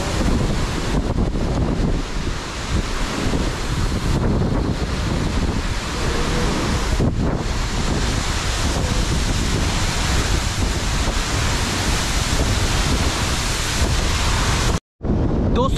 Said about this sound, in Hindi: ये पूरा वो जो पानी है ना, यहाँ से ऐसा बह रहा है।